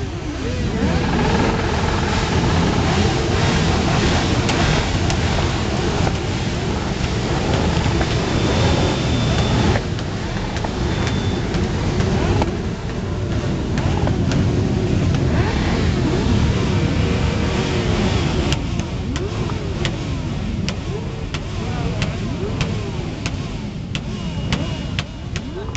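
Motorcycles in a charity parade in Győrújbarát start up and ride off together, a dense, continuous engine roar with revving that holds loud and steady throughout, with no gaps.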